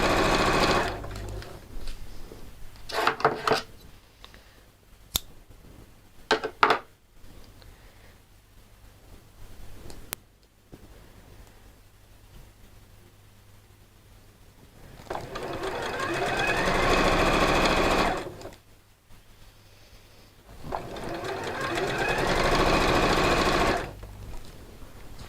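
A sewing machine runs in two sustained bursts, stitching bias binding with a steady rapid whirring hum, separated by quieter pauses with soft handling noises and some talk.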